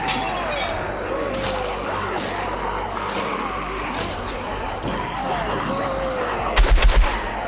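Gunfire in the video game Contagion, steady repeated shots over a dense rumbling backdrop with a louder burst near the end, while a voice talks over it.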